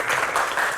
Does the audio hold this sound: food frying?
no